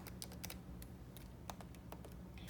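Typing on a computer keyboard, entering a command on a desktop comparing macOS and Ubuntu 19.04, comes through as a quick irregular run of crisp key clicks over a steady low room hum, close and fairly quiet, with no talking.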